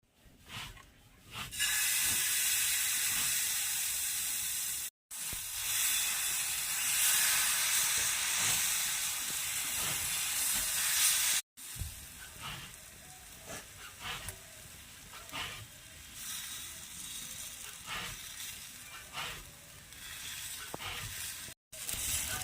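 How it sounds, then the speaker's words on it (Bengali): Oil sizzles in a wok while palm patisapta pitha cooks, a loud, steady close hiss with brief breaks. "তো আবারও কড়াইয়ে তেল বুলিয়ে দেবো।"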